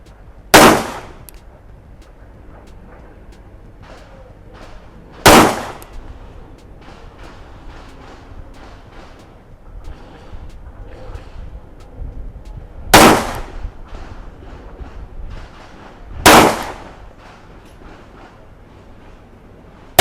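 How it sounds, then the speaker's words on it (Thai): A Taurus PT92 AFS-D pistol fires FMJ rounds at a target roughly 10 yards away on a range: four loud, close, sharp shots spaced several seconds apart, with quieter handling and background noise between them. "บรรจุแม่เข้าตัวปืน พร้อมแล้วเริ่มยิง"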